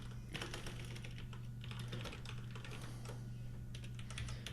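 Someone typing on a computer keyboard, a quick close burst of clattering keystrokes over a steady low hum, with no talking.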